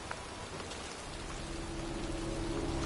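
Heavy rain pours down steadily in a cemetery, a dense, even hiss of drops hitting the ground with no pauses.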